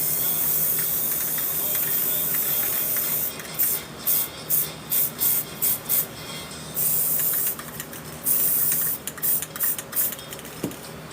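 Clear coat sprays onto a canvas painting in short hissing bursts, several quick puffs followed by longer sprays, close and fairly loud over a quiet background.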